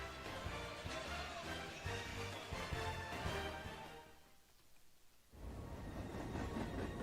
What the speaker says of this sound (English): Trains that sense what isn't on the schedule.